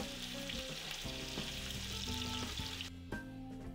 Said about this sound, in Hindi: ऑयल यहाँ पे गर्म हो चुका है, अब इसमें मैं प्याज ऐड कर रही हूँ